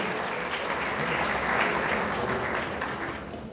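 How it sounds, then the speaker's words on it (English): Audience at a secondary school annual awards ceremony gives a sustained round of applause, a full, even clapping that swells slightly and then begins to fade. "Give them a round of applause."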